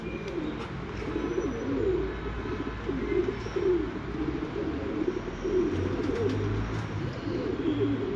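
Breeder pigeons coo in soft, repeated rolling phrases that carry steadily over low background rumble, close and continuous, with a few faint chirps and no talking.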